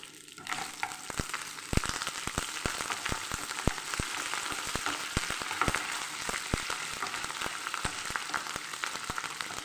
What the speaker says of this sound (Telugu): అటు ఇటుగా వేగితే సరిపోతుంది